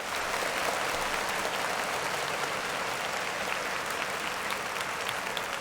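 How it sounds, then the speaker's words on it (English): Dense, hissy applause from a large crowd, even and unbroken, set back in the mix like a recorded or distant ovation. "Clap it up for him."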